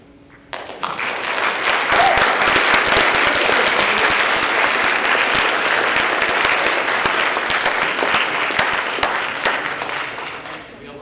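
An audience breaks into loud, sustained applause for Mrs. Roth, a survivor, swelling quickly after a brief quiet start and holding dense and close for about ten seconds before tapering slightly.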